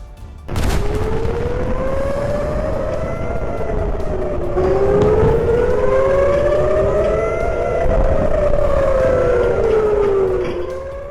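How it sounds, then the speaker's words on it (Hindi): A civil defense air raid siren wails in Beersheba, Israel, loud and sustained, its pitch rising and falling in slow overlapping sweeps after a sudden thud at the start. "दोपहर के वक्त अचानक सायरन बजने लगा।"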